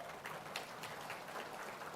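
Faint, scattered clapping from an audience at a political party's parliamentary committee workshop opening, a soft continuous patter with a few sharper claps standing out.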